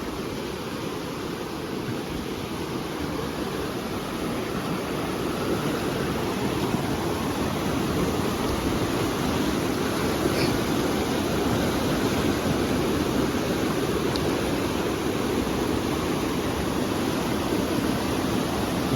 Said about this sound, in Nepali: धेरै डह्रो भयो क्या पानी यता